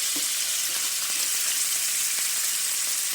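Bacon frying on a flat griddle, a continuous close hiss of sizzling grease with faint pops and occasional light scraping.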